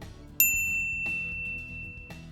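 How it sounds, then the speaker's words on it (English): A notification bell chimes three times, a bright ringing ding that rings on and decays, clear against near-silence. "ring the bell to be notified about our latest videos"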